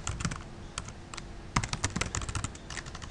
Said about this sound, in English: Or I can type it straight in.